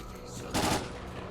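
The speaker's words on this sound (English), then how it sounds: "you will occasionally hear a shit ton of gunfire and explosion from bandits attacking stalkers who haven't paid up their taxes" A short, distant burst of rapid gunfire from bandits rattles out for a fraction of a second in the STALKER game world, over a steady background rumble.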